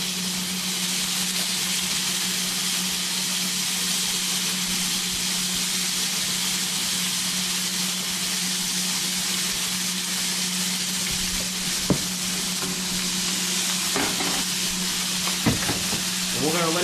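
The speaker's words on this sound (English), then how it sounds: "we're just going to throw our shrimp right into our pan" Shrimp fry in a hot pan with a loud, continuous sizzling hiss that holds steady throughout, broken near the end by a few clinks and stirring knocks.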